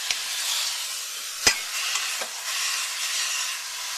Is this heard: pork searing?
yes